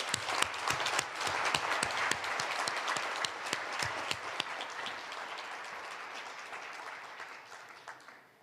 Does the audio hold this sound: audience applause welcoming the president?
yes